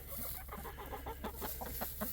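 Chickens out in the snow on a cold winter day in Alaska, soft repeated clucking in quick irregular bursts, fairly faint and close over a constant background hiss.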